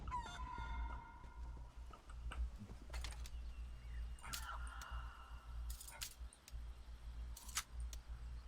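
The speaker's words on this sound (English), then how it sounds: "Spectral chicken." Scattered clucks from a spectral chicken in Elder Scrolls Online, brief bursts spread across the stretch above a steady low game ambience.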